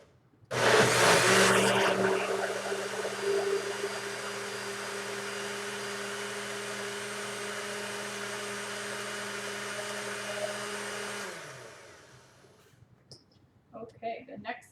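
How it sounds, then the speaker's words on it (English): A blender pureeing pizza sauce whirs loudly right up close for about ten seconds, a steady motor drone that cuts off, followed by faint voices. "Put the blender on."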